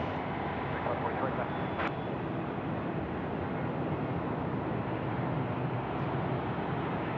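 A FedEx jet begins its takeoff roll at Sydney Airport at night, a steady, broad engine roar heard from a distance that holds level throughout.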